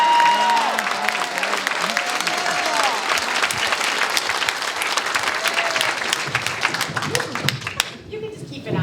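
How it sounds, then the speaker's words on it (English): A town hall crowd gives loud, dense applause for Cory Booker, sustained clapping with some cheering voices mixed in, tapering off near the end. "I think we should give a round of applause for Cory Booker."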